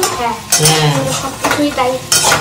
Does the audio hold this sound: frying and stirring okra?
yes